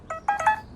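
A mobile phone text-message alert plays a short run of three bright electronic chimes, clear and close in a quiet indoor scene.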